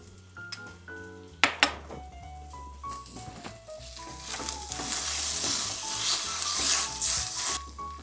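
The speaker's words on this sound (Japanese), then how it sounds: "あん肝から油が出てきたら味噌を加えてさらに炒めます" Monkfish liver stir-fried with miso in a pot for anglerfish hotpot, sizzling steadily and building in intensity, with sharp clanks of a utensil against the pan and stirring scrapes; no one speaks.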